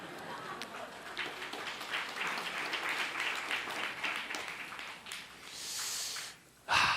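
A church audience in Mokpo applauds as a group, a dense burst of clapping that swells and sustains for several seconds, fairly close and filling the room, with no talk over it.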